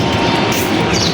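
A metro rail train gives a loud, steady, close rumble that fills the whole short moment, with no voices.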